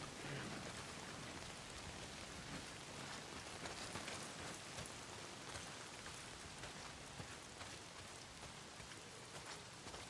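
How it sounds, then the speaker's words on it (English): Heavy, steady rain pours down in the Days Gone video game, a dense, even hiss that fills the whole stretch without pause, with no talking. "not if it's pissing down rain"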